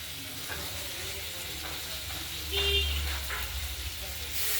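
Ground spice paste frying in oil in a pan for a rohu fish curry, with a soft steady sizzle and some stirring that runs under a voice and a low background hum.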